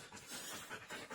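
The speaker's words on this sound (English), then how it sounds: "that's my dog, don't mind her." A dog pants rapidly and steadily up close in a quiet indoor room, its quick breaths running without a break for about a second.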